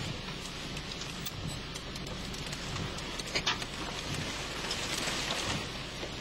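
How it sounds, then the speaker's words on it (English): Hail pours down during a wind storm near a house among trees, a dense continuous rattling patter with a few sharper knocks, steady and loud throughout. "And the hail continues to come down."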